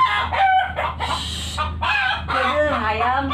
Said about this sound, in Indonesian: Ayam gandeng.